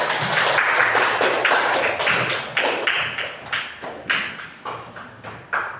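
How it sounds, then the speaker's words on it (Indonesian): A classroom group applauds a student presentation team, a dense burst of many hands clapping that swells and fades in uneven waves for several seconds, fairly close and loud with no talking over it. "Beri tepuk tangan untuk kelompok 4."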